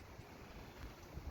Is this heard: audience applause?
no